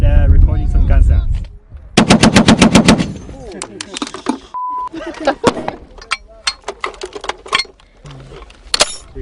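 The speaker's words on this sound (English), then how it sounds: "We're with the Special Forces and recording some gun sounds." Real weapons fired by special forces and recorded for Halo 4 sound effects, loud close bursts of rapid automatic gunfire alongside single sharp shots and echoing tails, with a brief beep and some voices in between.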